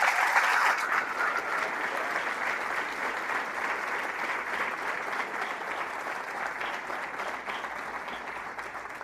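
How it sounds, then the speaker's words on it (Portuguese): Sustained applause from a large church congregation, steady and fairly loud, continuing evenly for several seconds with no voices on top. "Vocês podem aplaudir o Senhor por isso?"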